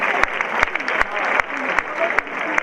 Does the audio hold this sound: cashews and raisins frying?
no